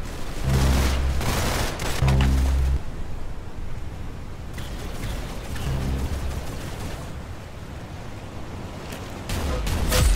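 Gunfire in the Roblox shooter game Arsenal, bursts of rapid booming shots at the start and end with scattered quieter shots and game noise between.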